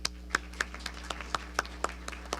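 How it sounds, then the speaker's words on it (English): Sparse handclaps from an audience at an award ceremony, marking participants being named: about ten sharp, separate claps spread unevenly over a couple of seconds, fairly faint and roomy, with a steady low hum underneath. "we'll clap"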